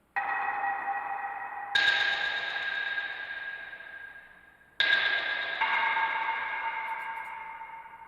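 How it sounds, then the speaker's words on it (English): Driftwood percussion sample from a virtual cinematic instrument, sounding as sustained bell-like tonal strikes that overlap and ring out slowly, a few spaced hits, clear and alone. "Got driftwood."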